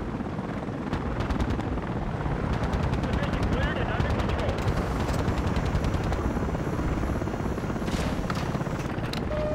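An AH-64 attack helicopter in Battlefield Play4Free fills the scene with a loud, constant rotor roar, layered with rapid bursts of machine-gun fire and scattered shots. A voice is faintly audible underneath.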